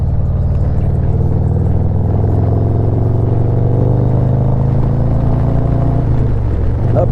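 A Harley-Davidson motorcycle rides down the road with a steady, loud, low engine rumble that holds for several seconds, easing slightly near the end, with no voices.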